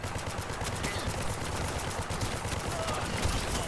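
Rapid automatic gunfire rattles on without a break in the shooter game Paladins during a capture-point match, a dense, steady barrage with voices faintly beneath.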